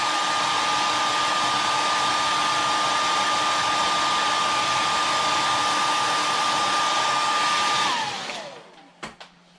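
A hair dryer blows steadily and loudly on fresh paint on a carved wooden face, a constant whirring hum that winds down and cuts off near the end.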